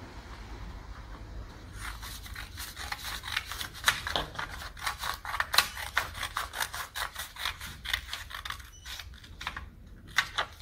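Scissors trim off excess paper while an origami bookmark is made, giving a run of close, crisp snipping and rustling sounds that repeat unevenly for about nine seconds.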